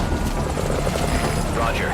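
A helicopter arriving at a landing zone in Metal Gear Solid V: Ground Zeroes, its rotor thumping loudly and continuously up close, with speech mixed in under the engine.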